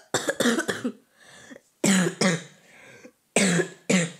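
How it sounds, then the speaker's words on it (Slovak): Three fits of harsh, close coughing, each a quick cluster of two or three coughs, separated by wheezy breaths and short pauses. "Veľmi sa ospravedlňujem, že takto kašlem, ale ja som fakt chorá"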